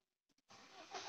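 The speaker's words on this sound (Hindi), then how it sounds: "अब मैं सेल्फ मारता हूँ," A Mahindra Scorpio with a starting and security light problem gives two faint clicks, then its engine cranks on the self-starter and catches into a steady, rising close-up run.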